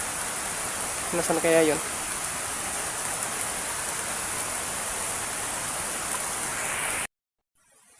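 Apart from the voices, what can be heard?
heavy rain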